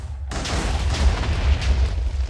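TNT blows up in a video game with a sudden loud boom that cuts in after a brief quiet moment, then rumbles on as a deep, rolling explosion.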